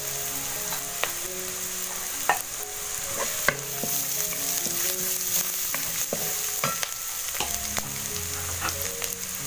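Onion and spice masala fries on a wood-fired stove with a steady sizzle and frequent stirring scrapes and knocks of a spoon against the pan, close and fairly loud.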